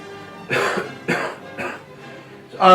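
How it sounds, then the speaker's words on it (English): A few sharp coughs in quick succession, close and clear, with short pauses between them and a louder final cough. "Let me cough real quick."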